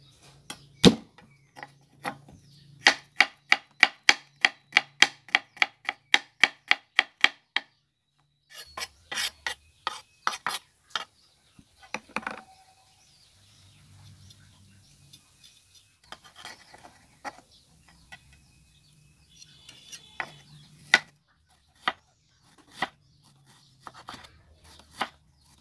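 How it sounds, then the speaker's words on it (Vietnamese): Garlic being minced with a knife on a cutting board for a vegetarian abalone mushroom salad, heard as a fast, steady run of sharp chopping taps, then irregular bursts of chops with short pauses and soft handling noises between them. "Tiếp theo thì mình sẽ băm tỏi ha."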